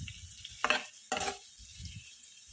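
Boiled potatoes for Goan patal bhaji being mixed in a pan, with two short scraping stir strokes over a soft background sizzle, close and fairly quiet.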